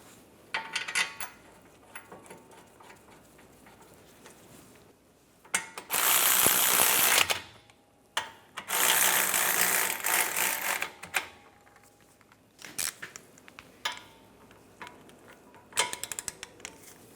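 A ratchet clicks in rapid bursts tightening brake caliper bracket bolts on a Buick Enclave, with louder stretches of continuous ratcheting separated by quiet pauses and small metallic handling sounds.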